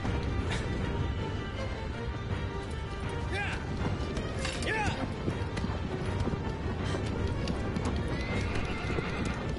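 A horse gallops hard in Shadow of the Colossus, loud rapid hoofbeats with neighs and whinnies over dense game sound, while people talk throughout.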